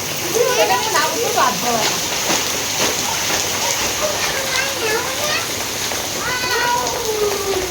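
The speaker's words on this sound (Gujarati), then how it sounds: "બહુ બારીશ આવે છે" Heavy monsoon rain pours down steadily in a dense, even hiss that lasts throughout, while voices talk over it.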